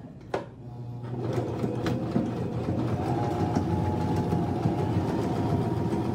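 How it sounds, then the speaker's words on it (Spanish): Sewing machine stitching sequin-covered fabric, running steadily and loudly for several seconds after a brief start, with a continuous mechanical whir and rhythmic needle chatter, no talking. "La máquina camina mucho más fácil y la costura queda más exacta"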